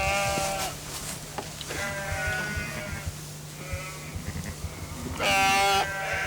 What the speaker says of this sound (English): there's the ewe with both her lambs